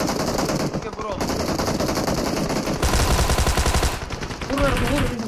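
Automatic gunfire from PUBG Mobile rattles in rapid bursts, loud and close, with a heavy sustained volley near the end while Turkish voices shout over the shooting.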